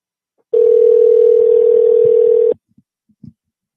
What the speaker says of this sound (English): call from your phone so he knows who it is